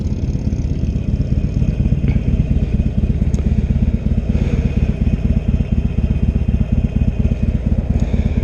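A Harley-Davidson Iron 883 Sportster motorcycle engine runs close by with a loud, steady, throbbing rumble and a fast, even pulse throughout, and no voices over it.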